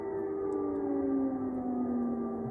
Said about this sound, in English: It sounds like the siren's getting worn down, doesn't it?